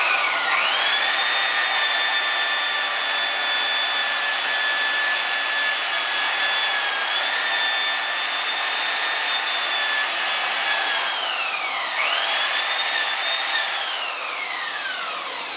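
An aluminum wheel gets polished with a buffing wheel on a power tool, a steady high whine sustained at length, dipping in pitch twice as the tool loads and recovers, close and loud with no talk.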